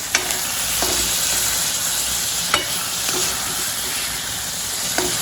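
Maggi noodles frying in a home kitchen pan give a loud, close sizzle, with a spoon scraping and tapping against the pan at irregular intervals throughout.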